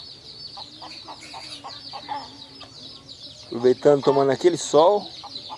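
Guinea fowl on a countryside farm give a run of short clucking calls at moderate distance, and a person then talks over them.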